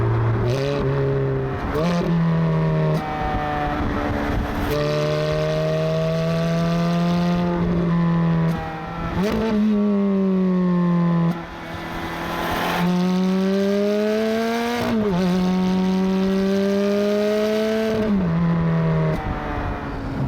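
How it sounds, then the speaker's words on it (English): Standard exhaust of a 2007 Ferrari F430 Spider revving hard and loud, with repeated rising and falling engine sweeps and brief gear-change dips, close up with no talk. "The exhaust, in case you're wondering, is absolutely standard, as is the rest of the car. And it's a lot more raucous than I thought it would be."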